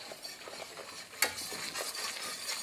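A blonde roux being whisked in a pan for crawfish etouffee: soft, quiet, continuous swishing and scraping with a light metallic tap near the middle.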